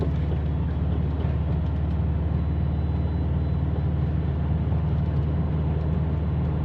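2012 Subaru WRX fitted with a Cobb 20g turbo, a loud, rumbling low drone heard from inside the car while cruising, steady and unbroken throughout.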